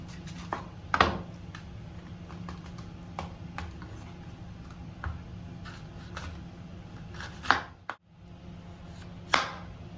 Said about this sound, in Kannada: ಈಗ ಕ್ಯಾಪ್ಸಿಕಮ್ ಅದನ್ನು ಕ್ಲೀನ್ ಮಾಡಿ ತಗೊಂಡಿದ್ದೆ ನಾನು ಮೂರು ಪೀಸ್ ಉಂಟು ಅದೇ ಕಟ್ ಮಾಡೋದನ್ನು ತೋರಿಸ್ತೇನೆ